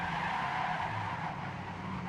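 Race car in a racing video game skidding against the wall, heard as a steady, fairly faint tire-scrubbing screech lasting about two seconds with no other sounds.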